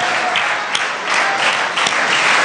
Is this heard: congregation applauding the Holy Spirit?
yes